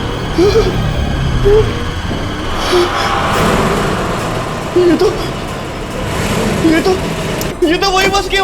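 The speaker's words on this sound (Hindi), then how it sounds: "ये तो वही बस की आवाज है।" A bus engine sound effect in a horror drama, a steady low rumble running under tense dialogue for about eight seconds, with a brighter burst of noise near the end.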